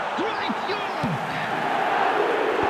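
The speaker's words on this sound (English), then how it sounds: "the crowd level has gone up a notch or 10" Stadium crowd in eFootball 2025 roaring steadily after a goal, a loud, dense wash of noise that holds throughout while a commentator talks over it.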